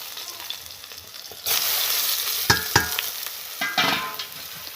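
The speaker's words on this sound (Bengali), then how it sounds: "বেগুনগুলো একটু লাল লাল করে ভেজে নেব," Small pieces of brinjal sizzle and crackle in hot oil, the frying growing louder partway through, with a few sharp stirring scrapes and pops close by.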